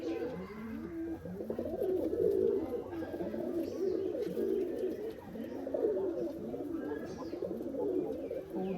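Pigeons at a farm raising Giribaz and racer breeds coo in overlapping, rhythmic throaty calls, a dense close chorus that runs continuously with no one speaking.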